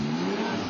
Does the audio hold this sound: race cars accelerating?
yes